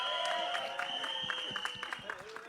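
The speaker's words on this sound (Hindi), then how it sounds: "तालियां बजा लो, हल्ला ही मचा लो" Audience clapping at a Bollywood trailer launch event, scattered claps from a crowd mixed with room noise and a steady high tone, moderately loud and continuous.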